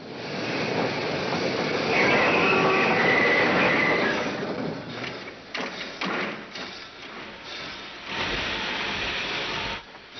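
Train in a Western film scene after a robbery, as a posse gives chase: a steady rumbling rail roar with clanking wagon noise and occasional thumps, loud at first and then more broken.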